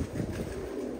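A pigeon with a long tail and long wings coos close by, a short soft murmur lasting about a second.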